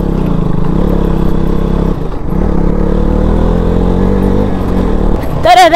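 A KTM Duke motorcycle rides a muddy off-road village track, its mid-pitched engine droning steadily up close with a brief dip and recovery, then a sharp rising rev near the end.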